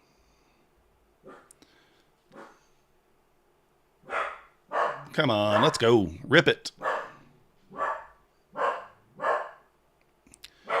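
A dog barks in short bursts, mixed with excited people talking and cheering nearby.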